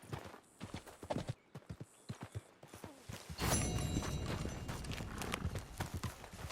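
Horse hooves clip-clop in Red Dead Redemption 2, first as a few spaced hoofbeats, then as a steady, close walking rhythm over a louder rumbling backdrop.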